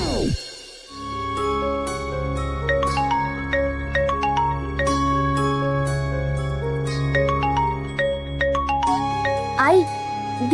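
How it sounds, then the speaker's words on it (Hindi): A melodic phone ringtone plays continuously in a Hindi TV serial scene, bright chiming notes repeating over a steady low hum, loud and close. "आई, दीदी का फोन आ रहा"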